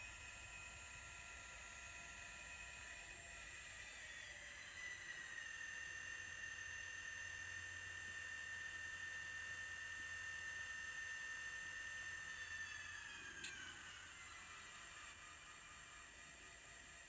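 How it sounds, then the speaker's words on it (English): Sound-equipped model railroad ALCO diesel locomotive: a faint, steady engine drone with sustained whining tones that shift in pitch partway through, running continuously at low volume with no voices. "this doesn't really sound like a very nice alco"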